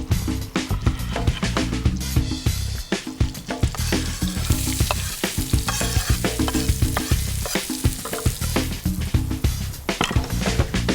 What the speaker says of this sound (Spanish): Entonces salteamos la cebolla con el ajo y esperamos a que quede un poco dorada o caramelizada